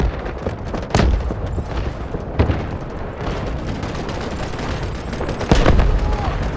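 A Delta Force artillery barrage in a large battlefield match: repeated heavy booms land every second or two, with rumbling impacts over a constant din of distant battle noise.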